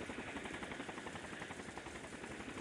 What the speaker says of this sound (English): a massive helicopter appeared from the other side of the mountain